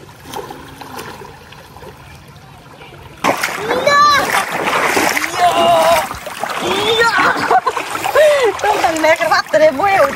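Water splashing at a hill-stream waterfall pool as people bathe, quiet at first, then a sudden burst of steady splashing and churning that continues under excited children's and adults' voices.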